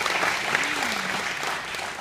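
An audience at a debate in Memphis applauds, a dense continuous wash of clapping that stays fairly loud and steady for a couple of seconds before easing slightly.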